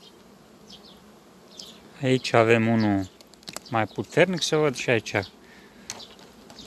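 Honey bees buzz faintly around an opened beehive where condensation has formed under plastic foil, a thin, steady hum under a man's close, loud talking.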